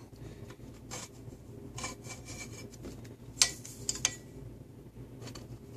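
Fingertips rub gooey, sticky dust from a loudspeaker being refoamed on a workbench, producing a soft, continuous close scraping texture with a few brief sharper squeaks partway through.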